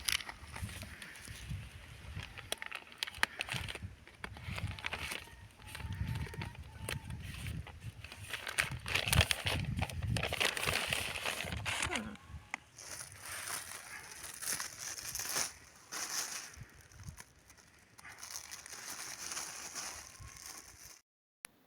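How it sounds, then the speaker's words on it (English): Fruit tree being unwrapped from its wrapping around sawdust- and soil-packed roots at planting time, with intermittent crinkling and rustling that comes in uneven bursts over about twenty seconds, close by, with a faint voice in places. "Unwrap the tree and put it into the hole."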